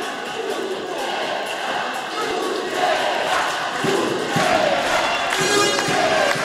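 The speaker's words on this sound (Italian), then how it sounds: "E adesso a cantare sono solo i tifosi di Rubiera." Rubiera supporters sing and chant as a crowd in an indoor volleyball arena during a timeout at a Serie A Gold play-out match against Carpi, a steady, broad roar of massed voices with occasional thuds.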